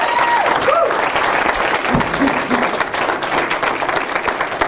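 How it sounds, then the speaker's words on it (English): An audience gives a professor of government full, steady applause for earning tenure, the clapping loud and continuous with a voice or two briefly audible underneath. "we all need to give him a little applause because he earned tenure this year."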